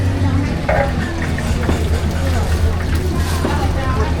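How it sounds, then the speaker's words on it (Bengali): Oil sizzles and bubbles as snacks are re-fried at a Pattaya street stall, under a busy background of people talking and a low engine-like hum. "এটা আবার নতুন করে ভাজা হচ্ছে যাতে গরম হয়ে যায়"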